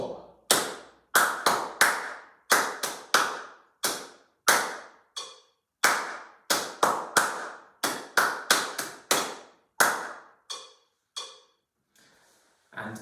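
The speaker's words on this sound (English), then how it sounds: "then I'm going to clap the test" Hands clap out a rhythm test from a music exam practice drill, sharp close claps in uneven groupings with short pauses between phrases, alone with no talk, trailing off into a few faint taps near the end.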